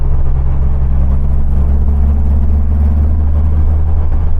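A car engine fitted with reworked Weber IDF carburettors runs on a cold day, struggling to settle back to idle. It gives a loud, steady low drone with a faint whir that barely changes across the few seconds.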